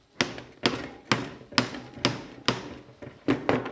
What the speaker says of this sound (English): a couple of taps of the hammer